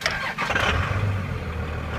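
A Cummins diesel pickup truck with a six-speed cranks and fires up, a loud, close, rough rumble that settles straight into a steady low idle.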